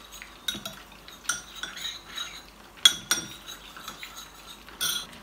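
A small spoon stirs corn flour and water in a bowl, clinking and scraping against the sides in quick irregular strokes, close and fairly quiet, with no talking.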